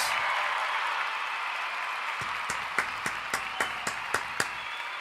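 A small group gives a round of applause: scattered clapping over a steady hiss, ending in a handful of sharp, distinct claps near the end.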